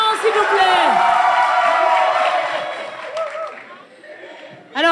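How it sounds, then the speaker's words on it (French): Outdoor concert crowd cheering and whooping for a singer, with loud sustained voices at first that slowly fade, then a fresh burst of shouts at the very end. "sous vos applaudissements, s'il vous plaît"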